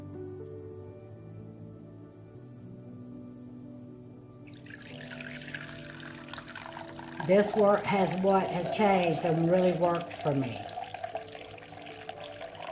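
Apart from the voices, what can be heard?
hot tap water running for measuring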